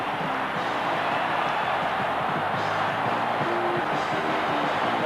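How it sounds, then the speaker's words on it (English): A stadium crowd at an American football game between the Raiders and Cowboys roars after a touchdown, a steady, dense and sustained wall of noise with no pauses. "Let's listen to the roar of this crowd."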